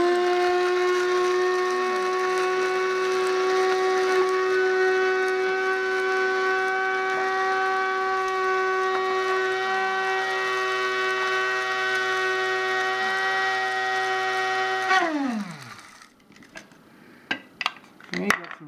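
A small grinder whirs steadily as it powders dried onions, a high motor whine with strong harmonics holding for about fifteen seconds. It then spins down quickly, followed by a few sharp clicks and taps.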